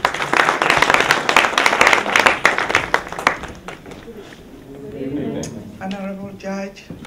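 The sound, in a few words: audience applause for a presenter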